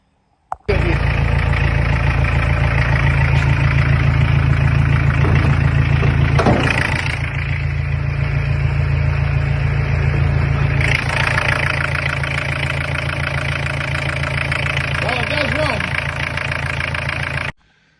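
A car engine for a Lemons rally, just repaired and running again, starts up and settles into a steady loud idle that continues for around seventeen seconds.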